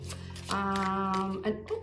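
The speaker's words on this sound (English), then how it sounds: "I'm going to keep shuffling" Tarot cards being shuffled by hand in a quiet room, a soft riffling rustle with a sustained tonal hum beneath and a few brief taps near the end.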